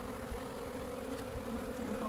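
Bees buzz in a dense, continuous hum, close by and steady, with no talking over it.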